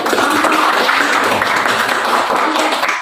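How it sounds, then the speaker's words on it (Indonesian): Classroom applause from students, a steady dense patter of many hands clapping at close range, continuous and loud throughout with no distinct individual claps standing out. "Ibu berikan tepuk tangan untuk semua kelompok"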